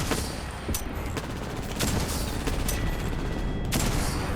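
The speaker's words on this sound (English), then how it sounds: "Signaling an airstrike." A string of booming explosions from an airstrike in a video game, several sharp blasts spaced irregularly over a few seconds against a constant roaring background.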